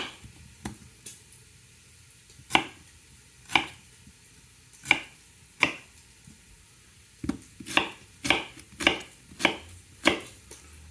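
Onion being chopped in a small food processor, a series of sharp, distinct blade whacks, sparse at first and then quicker in clustered bursts, close and clear.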